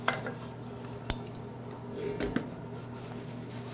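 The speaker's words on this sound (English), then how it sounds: "And I just keep stirring everything until it's melted." A cocoa mixture for chocolate no-bake cookies is stirred in a pot until melted, with a few faint utensil clinks and scrapes against the pot over a low steady background hum.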